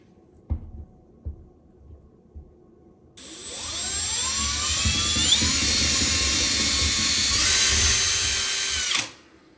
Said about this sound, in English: drill your 5/16 hole in the ceiling